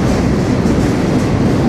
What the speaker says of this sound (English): Now we're about to ride back into Klamath Falls with this large boxcar.